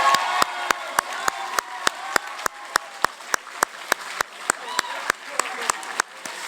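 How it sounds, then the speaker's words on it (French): An award-ceremony audience applauds the teachers with sharp, evenly spaced claps in a steady rhythm, nearby and moderately loud, while talk and murmuring carry on underneath. "Je pense qu'on peut les applaudir."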